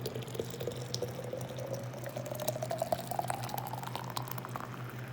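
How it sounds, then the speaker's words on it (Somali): Boiling water is poured into a cup of lemon, ginger and honey, a steady close trickle whose pitch rises as the vessel fills, with no talk. "biyo karkarayo"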